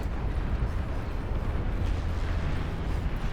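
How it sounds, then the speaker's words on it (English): Inferno napalm launchers firing in a massively multiplayer RTS battle, a dense, continuous roar of rumbling low bursts and explosions that runs steadily throughout without pause. "Inferno napalm launchers."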